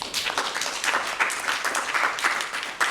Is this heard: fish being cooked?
no